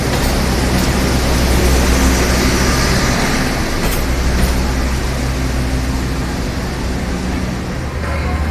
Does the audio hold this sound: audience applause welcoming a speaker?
no